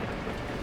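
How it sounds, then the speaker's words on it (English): Torrential rain in the video game Beacon Pines, heard as a brief, dense, steady roaring hiss of downpour at low volume. "At that moment, the heavens opened up, unleashing torrential rain."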